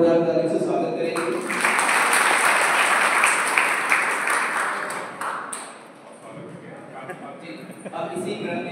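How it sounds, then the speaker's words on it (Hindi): Enthusiastic audience applause welcoming a visiting district official at a classroom event in Unnao, India, a loud sustained burst of clapping that swells, then thins out toward the end. "तो इसलिए एक बार सर का जोरदार तालियों से स्वागत करेंगे"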